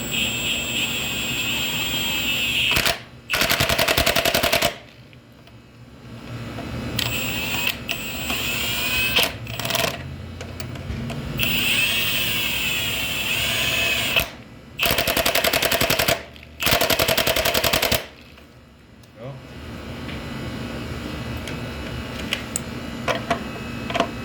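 Pneumatic impact gun driving a belt tensioner bolt on a K-series engine, several loud hammering bursts of about a second each separated by quieter shop noise.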